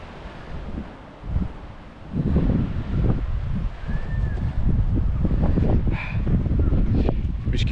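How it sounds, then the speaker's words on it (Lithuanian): Wind gusts on Rhodes island, near the town of Lindos, buffet the microphone as a steady low roar that swells and eases for several seconds, with no voices. "Biškį vėjota antrą dieną."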